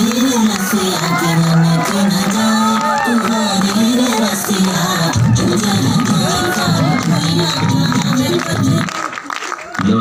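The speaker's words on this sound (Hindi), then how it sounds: "जोरदार तालियां" Crowd at a sales training event breaking into loud clapping and cheering, a busy mix of hands, shouts and babble with voices talking over it, thinning out in the final second.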